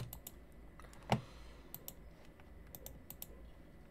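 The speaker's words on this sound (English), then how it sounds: "When we go on our terminal and we write wget" Quiet clicks of a computer keyboard as a command is typed into a terminal, scattered keystrokes in irregular rhythm with one slightly heavier tap, close and soft.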